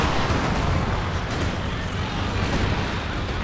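A real-time strategy battle in which four heavy artillery pieces lay down a barrage, a dense, continuous rumble of overlapping blasts and booms at a constant loud level.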